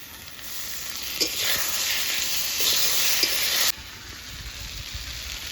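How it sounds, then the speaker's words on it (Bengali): Potatoes frying in a pan with ground chili and ginger paste give off a steady close sizzle. The sizzle flares louder for a stretch while the mix is stirred, then settles back to a softer hiss. "আলুটা ভাজা হয়ে গেছে, এবার বেটে রাখা লঙ্কা আর আদাটা দিয়ে কষিয়ে নেব।"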